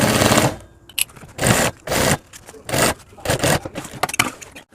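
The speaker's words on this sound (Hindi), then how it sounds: "इसके बाद हम बोतल पॉकेट को इस तरह से सिलाई कर लेंगे।" A sewing machine stitches the bottle pocket onto a school bag, running in five or six loud, rattling bursts separated by short pauses, close up and with no talking.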